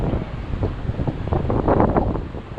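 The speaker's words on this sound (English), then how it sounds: "I'll try and talk over the wind, but it's blowing a hoolie." Strong gusting wind buffets the microphone at a small free marina at Agios Isidoros, with a roaring, uneven rush and faint water movement beneath it.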